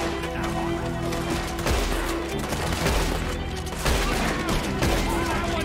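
Gunshots in Red Dead Redemption 2, dense overlapping shots and booms over loud game sound and music, with a voice talking over the action.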